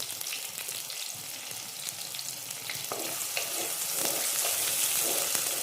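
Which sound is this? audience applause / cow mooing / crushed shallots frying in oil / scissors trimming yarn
crushed shallots frying in oil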